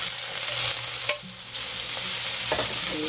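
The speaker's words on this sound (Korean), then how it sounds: "자, 죽순 먼저 볶아 보겠습니다." Bamboo shoots stir-fried in a mix of cooking oil and sesame oil, a loud close sizzle with a few metallic scrapes and knocks of a spatula in the pan.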